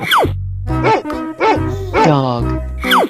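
Dog barks in a 3D cartoon animal slide game, several quick yappy woofs in a row over loud, bouncy background music with swooping effects.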